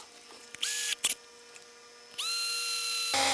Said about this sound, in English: now we'll put this in the drill and we'll drill the holes